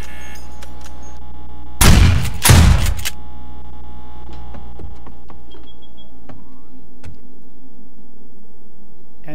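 A shotgun turret in the video game 7 Days to Die fires two loud, heavy blasts in quick succession at a zombie, followed by faint mechanical clicks over a steady background hum.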